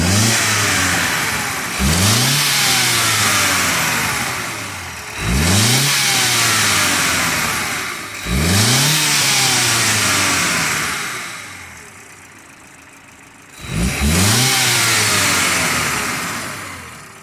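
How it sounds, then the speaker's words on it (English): A 2019 BMW M135i xDrive with a 305 bhp petrol engine revved four times while parked, each rev rising sharply to a loud roar and then falling back to a steady idle. "Let's give it 4 or 5 revs for you."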